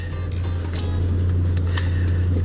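The engine of a 1966 Ford Mustang idles loudly and steadily with a deep, constant hum inside a garage. The pitch stays even throughout with no distinct revs from the pedal taps.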